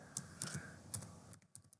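Light, quick keystrokes tap on a computer keyboard in a short irregular burst, close and fairly quiet.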